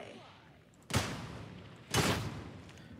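Two loud, evenly spaced gunshots ring out from a gun in the video game Warhammer 40K: Darktide, each a sharp crack with a decaying tail, over a quiet game background.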